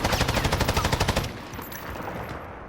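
M249 SAW light machine gun in Call of Duty Modern Warfare firing one loud, rapid automatic burst of about a second and a half, then ringing echo and faint clatter as the shots stop.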